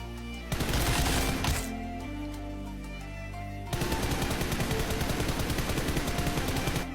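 Rapid automatic gunfire from PUBG Mobile, loud and sustained, with a short burst spray giving way to a longer continuous spray of dense, evenly spaced shots; no voices.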